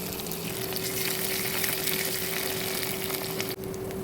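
Garlic and a green chili frying in a pan of oil for a bitter gourd curry, a steady close sizzle over a constant low hum, ending with a brief sharp clunk, no talk.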